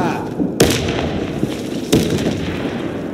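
Two sharp, loud grenade blasts ring out about a second apart in the Warface shooter on the Hangar map, each a sudden booming burst that decays quickly into background noise.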